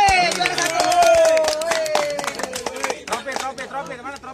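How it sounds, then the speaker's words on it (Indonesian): A crowd claps for the first-place winner at a 2020 saltwater fishing tournament prize-giving, with dense, close hand claps under overlapping chatter and a voice. "Tepuk tangan deh juara satu"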